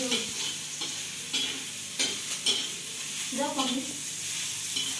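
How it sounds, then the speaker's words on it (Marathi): Oil from a ladle hitting a hot pan while a grandmother cooks a wild leafy vegetable dish, giving a steady close sizzle with scraping stir strokes and a few clinks, with no talk. "आता आजी ह्याच्यात ना एक पळी भरून तेल टाकतीये"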